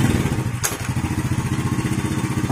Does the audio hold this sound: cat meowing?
no